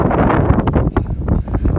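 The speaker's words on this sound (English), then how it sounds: "It's windy up here." Strong, gusty wind buffets the microphone on a mountain top in Shenandoah National Park with loud, continuous roaring and rumbling, no voices present.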